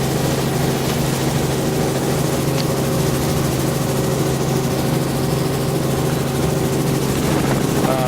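An aircraft lifting off from an airport, heard from inside as a loud, continuous engine and rotor drone that stays steady and dense throughout.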